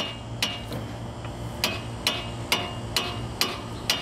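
A hammer strikes the steering knuckle of a 2007-2014 Nissan Altima during driver-side axle removal, giving eight sharp metallic blows at a steady rhythm over a low background hum.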